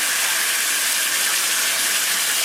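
Onion paste hitting a hot pan of oil for a stingray (shankar fish) curry, giving a loud, steady, close-up sizzling hiss that never lets up, with no voices.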